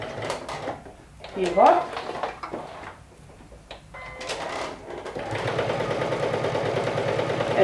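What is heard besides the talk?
sewing machine stitching a quarter-inch seam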